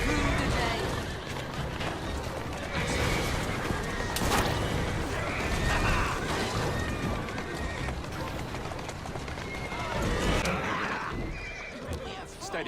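Horse-drawn carriages race through streets in the Assassin's Creed Syndicate video game, with galloping hooves, rattling wheels and a horse whinnying, loud and continuous, while voices talk over the action.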